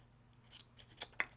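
Scissors snip through craft card while trimming paper, a few short crisp cuts close by, the last one sharpest, with no talking.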